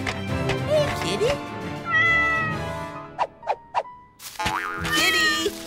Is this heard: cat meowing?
yes